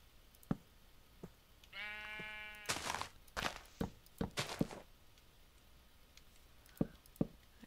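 A single sheep bleats in Minecraft (modded, Attack of the B-Team) on a farm, a brief wavering cry against quiet background taps and blocky thuds.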